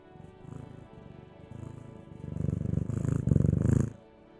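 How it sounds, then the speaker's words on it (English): Cat purring in the video game Disco Elysium, a steady rumbling purr with rhythmic pulses that swells louder toward the end, close and without talk. "Hopefully you can hear that purr. Because that purr is fabulous."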